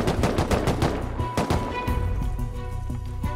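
Rapid bursts of video game gunfire from Rust, loud and dense with repeated sharp shots overlapping into near-continuous firing.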